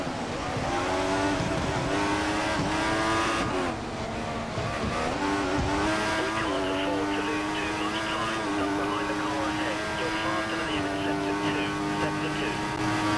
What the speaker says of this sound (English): this restart, just listen to the car